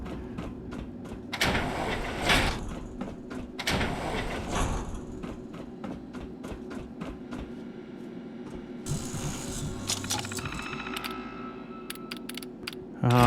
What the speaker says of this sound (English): Unlocked door.